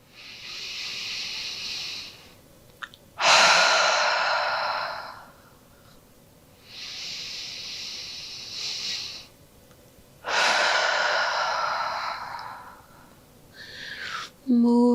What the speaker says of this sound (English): Take a few of these cleansing breaths.